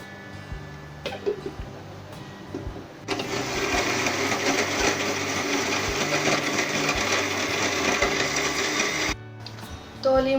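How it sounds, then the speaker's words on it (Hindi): An electric grinder whirs steadily as it blends lemons with sugar, salt and a little water, running loud and continuous for several seconds before stopping abruptly, with a few kitchen clatters before it starts. "इसको अच्छी तरह ग्राइंड कर लेंगे।"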